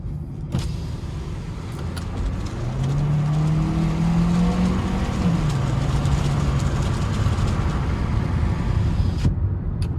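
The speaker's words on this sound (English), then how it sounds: "So flooring it really doesn't go anywhere." Hyundai Kona 2.0 four-cylinder engine under full-throttle acceleration, a steady, loud cabin drone with a rising engine tone that climbs and holds for several seconds, no talking.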